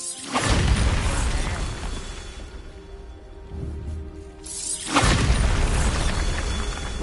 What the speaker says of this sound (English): You make the guy explode.